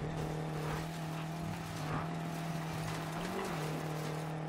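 A BMW X6 M racing in Need for Speed Payback, its engine a steady, fairly quiet drone with a constant low hum throughout and no speech.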